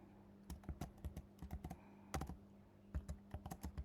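Fingers tap out a password on a computer keyboard in quick, uneven bursts of crisp close keystrokes, with a short pause midway and no talking.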